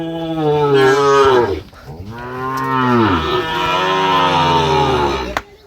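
Two long, loud moos from Sahiwal cattle, one after another, each rising and falling in pitch, close to the listener.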